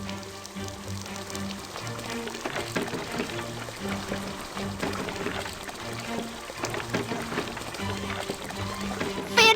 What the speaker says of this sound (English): Drag the hose to fill the pool with water.